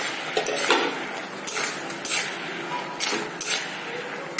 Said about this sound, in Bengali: একটু ঢাকনা দিয়ে ঢেকে দিই, আমি ঢাকনাটা ওখানে উঠিয়ে ফেলব।